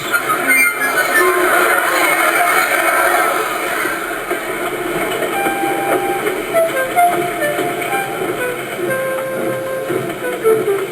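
A steam train engine rumbles and rattles steadily at close range, departing a platform, with a constant mechanical clatter and faint high squeals as it pulls away.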